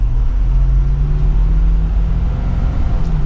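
Low, steady diesel engine rumble from a 2023 Ford F-250 Super Duty pickup close by, with a deep droning hum and a slight rise in revving.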